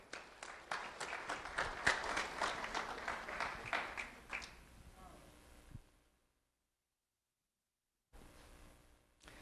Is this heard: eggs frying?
no